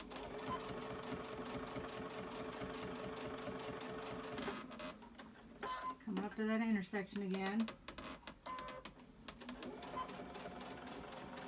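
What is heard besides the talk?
sewing machine stitching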